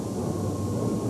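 A flamethrowing 6,000 horsepower, 300 mph jet-powered dragster roars continuously at an arena motorsport show in Worcester in 1991, a loud, steady, broadband jet rush.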